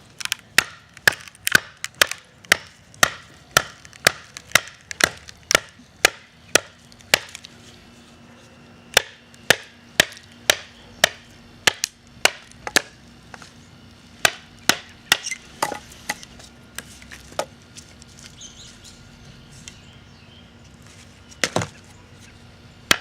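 A forged knife blade driven through wood by repeated baton strikes, sharp loud cracks coming in a quick uneven rhythm, some closely spaced and others spread apart, with a few softer splitting knocks and no talking.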